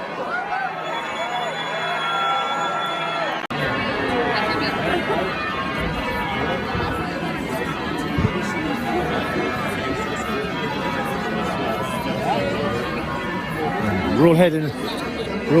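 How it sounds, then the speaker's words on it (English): A crowd disperses at Oxford May Morning, filling the air with steady outdoor chatter and babble from many people milling about nearby, with one voice speaking closer over the hubbub. "The crowd is sort of dispersing now."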